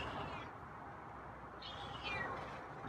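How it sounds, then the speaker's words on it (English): Two short, fairly faint meows from a feral cat come one after another late in the clip, over a soft hum of background noise. "Yeah, we got some meows for me today."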